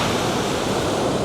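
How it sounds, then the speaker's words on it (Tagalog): Roaring ocean waves on a coast form a loud, continuous wash of broadband surf noise, steady and dense with no voices. "Roaring waves."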